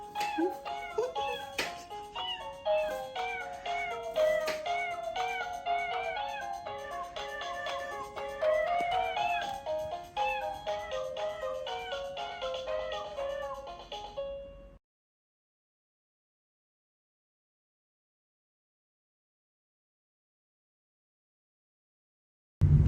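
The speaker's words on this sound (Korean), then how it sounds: "고양이" A cat gives a long run of repeated, rising and falling meows, close and clear, lasting about fifteen seconds before silence.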